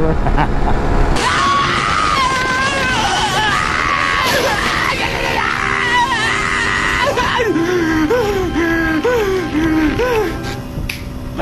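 The SpongeBob screaming meme sound effect plays as a loud, wavering cartoon scream with repeated rising and falling yelps. Steady engine and road noise continue underneath throughout.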